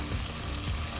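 Biryani powder frying in oil for naati-style chicken biryani: a soft, steady sizzle with faint stirring scrapes, heard close and quiet in a short burst with no talking.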